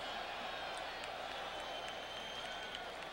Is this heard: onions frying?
no